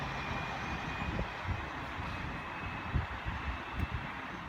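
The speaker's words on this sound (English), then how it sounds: "We got a service from London North Western Railway, 350 service from Stafford to London Euston." A London Northwestern Railway class 350 electric train running on the West Coast Main Line at Kings Langley: a steady low rumble of wheels on track with rhythmic clunks over rail joints, passing close by.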